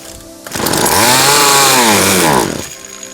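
A McCulloch Mac Cat 435 chainsaw, an American-made gasoline saw, revs up loudly from idle, holds a steady high whine for about two seconds, then drops back to a low idle, heard alone.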